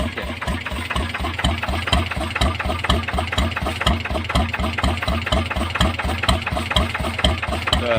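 An engine idles loudly and steadily up close, its rhythmic chugging pulses repeating evenly throughout.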